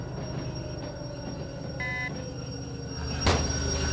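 Train slowing down in the railway simulation game Derail Valley: a steady low rumble of a locomotive with a brief tonal squeal partway through and a sharp hiss burst near the end, with no talk.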